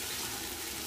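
Water is poured into a cooking pan of paneer masala, a brief continuous gushing splash heard alone at close range.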